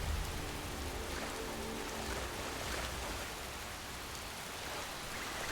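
Steady, even rain pours down in the video game Skyrim, a continuous hiss of downpour on surfaces with no voices, holding at a constant moderate level throughout.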